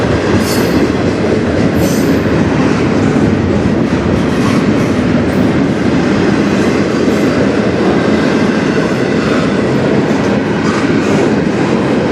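A CN freight train passing on the Strathroy Subdivision in Ontario, a loud steady rumble of railcars with rhythmic wheel clatter and occasional squeal, close by and continuous with no talk.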